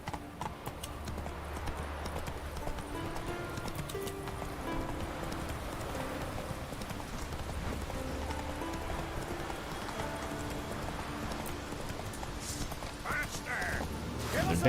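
A horse gallops in The Witcher 3 video game, its rapid rhythmic hoofbeats running steadily throughout at a quiet level, with soft game ambience and a faint whinny.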